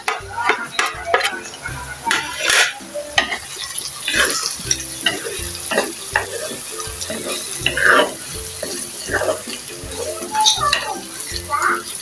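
Liver, gizzards and kikiam fry in a pan for pancit miki, with steady sizzling, repeated stirring scrapes and clinks close up, and no talk.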